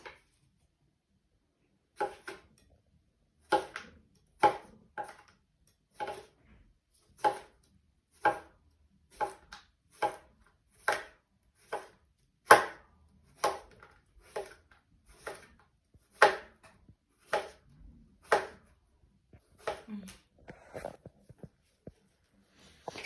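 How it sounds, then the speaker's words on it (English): Knife slicing cucumbers on a cutting board: a steady run of about twenty crisp, evenly spaced chops, close and clear, with short pauses and no talking. "So we're going to start off by cutting our cucumbers into slices."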